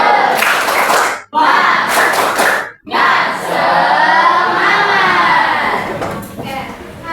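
A junior high school class in Banjarmasin does a rhythmic spirit clap, bursts of group clapping broken by short pauses and mixed with children chanting loudly together.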